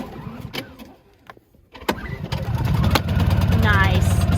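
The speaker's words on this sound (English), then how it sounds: "This is the Honda Generator 2200" A Honda 2200 generator's small engine cranks and starts after a few clicks and a pull, then settles into a steady running drone close by, with brief talk early on.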